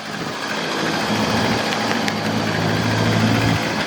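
A worn hot rod car engine idling close by, a steady rumbling drone with a rough low throb and a brief sharp click partway through, with no talk.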